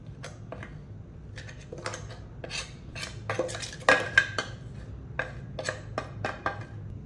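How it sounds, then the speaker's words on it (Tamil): A spoon stirring ground drumstick leaf powder with salt in a bowl gives scattered light clinks and scrapes against the dish, quiet and irregular, with no voices. "இப்போ இது எல்லாத்தையும் நல்லா மிக்ஸ் பண்ணுங்கள்"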